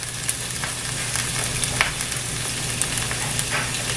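Onions sizzling and frying in hot oil in a home-kitchen pan, a steady crackling hiss with scattered pops and occasional stirring, close and continuous with no talking.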